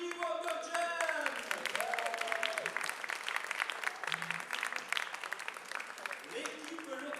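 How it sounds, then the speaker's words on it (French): Crowd applause for Dr. Jane at a SLAMONS 2016 poetry slam, a steady, fairly distant wash of clapping with voices and cheers mixed in. "On applaudit Dr. Jane."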